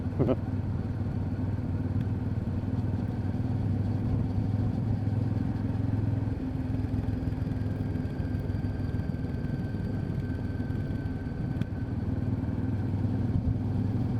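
A motorcycle engine runs steadily at low revs while riding downhill at about 30 km/h, a continuous rumbling drone with faint road noise.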